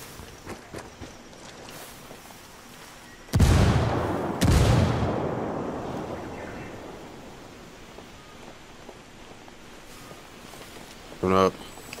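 A frag grenade explosion and gunfire in the shooter Ghost War, with two heavy booming blasts that trail off into rumbling debris, followed later by a short rapid burst of shots, with talk around them.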